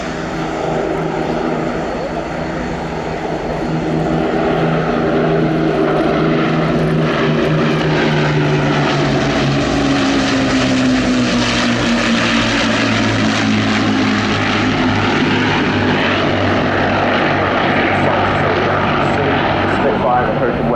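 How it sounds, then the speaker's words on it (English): An Avro Lancaster bomber flies in formation with a Spitfire and a Hurricane, and their propeller engines make a loud, continuous droning roar. The pitch shifts slowly as the formation passes overhead. "Spitfire and Hurricane working hard to keep on the wings of the Lancaster."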